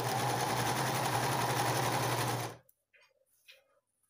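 A sewing machine runs in one steady, close whirring burst for about two and a half seconds while stitching pleats into a child's puff-sleeved dress, then stops, leaving only faint handling rustles.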